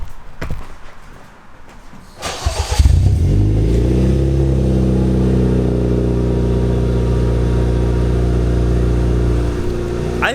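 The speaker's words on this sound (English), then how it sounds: "here's a cold start from the new exhaust" Cold start of a Honda Accord with a new exhaust: a few clicks and a brief crank, then the engine catches with a loud bark and settles into a deep, rumbling, steady idle close by.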